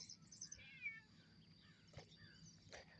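A farm cat meowing several times, soft to moderate and fairly close, over a quiet outdoor background with faint bird chirps.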